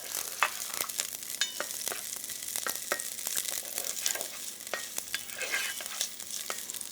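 Onions fry in a pan with a continuous bright sizzle, punctuated by frequent crisp crackles and stirring clicks, close and fairly quiet, with no talk.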